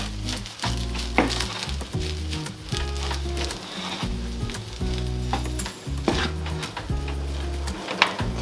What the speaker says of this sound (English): And stir fry for another maybe 3 to 4 minutes